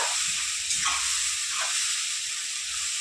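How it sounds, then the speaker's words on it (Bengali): Ground pumpkin leaf paste goes into hot oil in a pan, making a steady bright sizzling hiss with a few brief surges, close by and continuous throughout. "এবার আমি ওই তেলেই দিয়ে দেবো কুমড়ো পাতা বাটা।"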